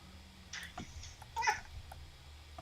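A large pet cat meows a few times, short soft calls against low background game sound, one slightly louder cry in the middle.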